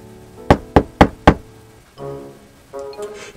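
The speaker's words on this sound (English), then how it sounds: "it all comes crashing to a halt when he hears a knock on the door" Four sharp, evenly spaced knocks on a door, loud and close, followed by a faint muffled sound.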